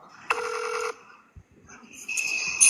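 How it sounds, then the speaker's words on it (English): A phone rings with electronic tones, a loud sustained burst followed by a pause and then another ring starting up, close by and without talk over it. "Whose phone's ringing?"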